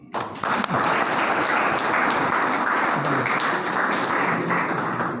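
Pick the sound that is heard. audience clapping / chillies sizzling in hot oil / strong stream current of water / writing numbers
audience clapping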